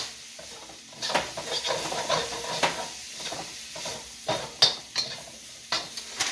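Already-cooked meat warming in a stir-fry pan, a soft steady sizzle broken by frequent scraping and clinking as a utensil stirs against the pan, close and fairly quiet.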